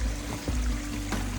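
Small waterfall trickling over rocks along a climbing trail in Queulat Park, a steady broadband wash of running water with a low rumble, continuous and close.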